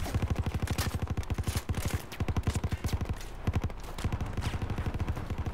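Rapid sustained automatic gunfire in the video game Battlefield 4 runs steadily for several seconds, loud and close, in a dense regular rhythm with brief pauses between bursts.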